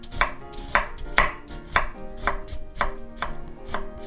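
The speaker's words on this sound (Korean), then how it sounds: "레몬도 깨끗이 씻어서 이렇게 슬라이스 해주세요." A washed lemon being sliced with a knife on a cutting board for a chayote pickle, heard as about eight evenly spaced crisp knife taps close up, with no voices.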